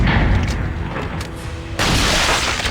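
Gunfire in the Resident Evil 4 video game: booming in-game shots, one loud blast around the middle then a sustained dense burst of firing near the end, no talk.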